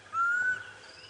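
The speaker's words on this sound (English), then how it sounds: "we've got to find one of these cuckoos" A single drawn-out whistled bird call of a cuckoo rings out once, a thin clear tone over a low steady rumble on a sunrise safari drive, with no talking.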